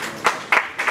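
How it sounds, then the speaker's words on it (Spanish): Seminar audience in a hall clapping for an engineer from the Dominican Republic; a brief burst of applause swelling in a few uneven waves over about a second. "Gracias por el aplauso."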